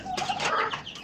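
A naked-neck rooster gives a brief, close, throaty cluck, a quick burst of clucking notes on a farm.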